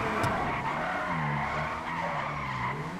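A car in a racing game drifting with a long continuous tire squeal over a droning engine, loud and sustained for several seconds.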